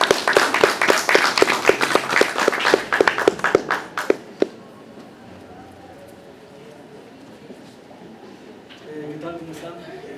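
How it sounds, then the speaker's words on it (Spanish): An audience claps at an academic linguistics conference, about four seconds of steady, sharp claps that stop abruptly and leave a quiet hall, with faint talking starting near the end. "Fuertes palmas."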